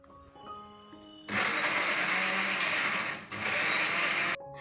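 Mixer grinder running loudly while grinding a spice paste in a home kitchen, a steady dense whir that briefly dips and then resumes before stopping, with quieter kitchen sounds before it starts.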